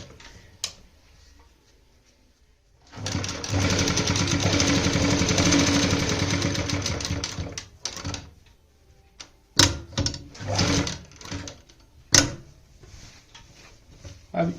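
Sewing machine stitching a suit collar, a dense mechanical whir running for about five seconds, then short bursts of stitching and clicks near the end, close and fairly quiet.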